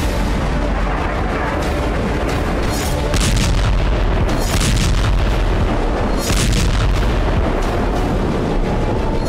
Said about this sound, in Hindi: रॉकेट के साथ साथ बैलिस्टिक मिसाइल से तेल अवीव के आसमान में गदर मचाया